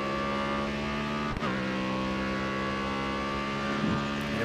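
A race car engine in the racing video game GRID Autosport drones continuously at high revs, with a brief shift blip early on and a slight rise near the end, loud and steady without talk.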